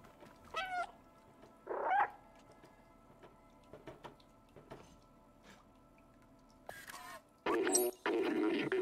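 A cat meows in the video game Stray, with several short separate cries spaced across the scene, some louder and drawn out near the end, over quiet game ambience with faint ticking.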